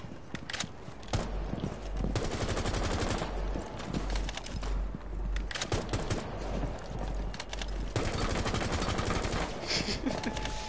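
Sledge's gun fires in rapid, dense bursts in the video game Rainbow Six Siege, with clattering shots packed tightly through most of the stretch amid busy game noise.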